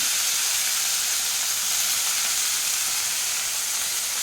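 Chopped fenugreek leaves dropped into hot oil with cinnamon, cardamom and cloves for methi rice, giving a loud, steady, close sizzle and hiss that holds without break.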